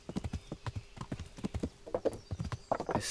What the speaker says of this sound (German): Mein Pferd kann endlich springen.